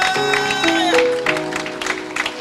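A church congregation claps in a busy, uneven patter while sustained sung or keyboard tones ring underneath and fade as the clapping carries on.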